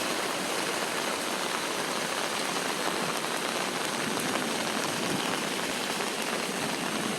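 Heavy rain pours down steadily during a lightning storm in downtown Loganville, a dense, unbroken hiss of water drumming on surfaces that stays close and loud throughout.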